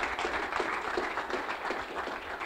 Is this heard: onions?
no